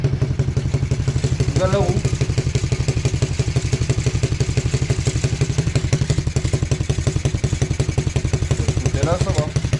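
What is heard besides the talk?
cheap quad bike engine running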